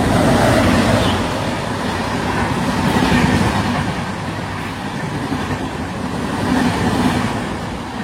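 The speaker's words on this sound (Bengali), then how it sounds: "ওইদিকে একটা বেরিয়ে যাচ্ছে লোকাল ট্রেন" A local train pulls out from a station platform, its broad steady rumble of wheels and carriages rolling on at moderate distance, swelling slightly at intervals with a faint higher hiss, no voices over it.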